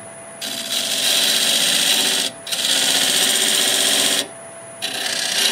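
A homemade dovetail cutting tool scraping against spinning Spanish olive wood on a lathe while shaping a bowl, a steady loud rasping hiss in long unbroken passes with brief dips between, close and free of speech.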